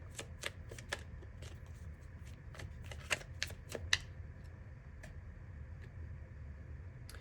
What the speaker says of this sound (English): Get one more card out for group 3, please, Spirit.